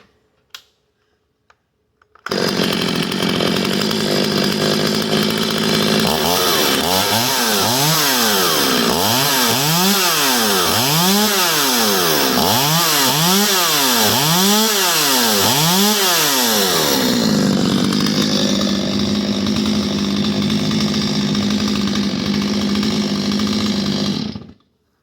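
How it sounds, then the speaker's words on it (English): A Stihl 025C chainsaw, freshly fitted with a new carburetor, plugs, fuel and oil lines and ignition, starts up loud and close, revs up and down in repeated surges, then settles to a steady idle before shutting off. "Could run the saw."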